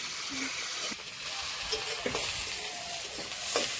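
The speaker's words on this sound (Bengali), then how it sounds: "এবার ভালো করে ভেজে নেব" Chopped onion and a few whole garlic cloves fry in oil in a pan, a steady close sizzle with occasional scraping clicks of stirring, moderately quiet and without talk.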